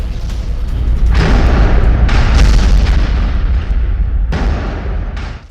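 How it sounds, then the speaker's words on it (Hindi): An army vehicle loaded with ammunition explodes after being hit in an attack in the Russia-Ukraine war, a deep rumbling boom with repeated bursts and crackling pops rolling over several seconds. "हमले के बाद धमाके के साथ उड़ गया ये वाहन भी"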